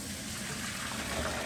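Hot water drains off cooked macaroni in a steady, close rushing stream, a continuous watery trickle with no talking.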